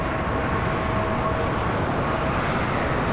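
A United Boeing 737-800 arriving from Denver at Charlotte Douglas airport produces a continuous, loud, rumbling jet roar that holds steady for the whole short stretch.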